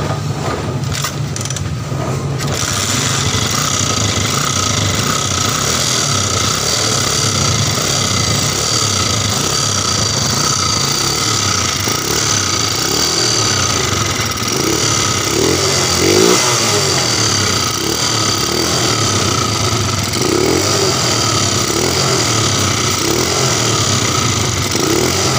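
A Honda SR125 motorcycle engine, newly converted from contact points to CDI, starts up and runs steadily, with a loud close idle and occasional revs rising over the constant drone.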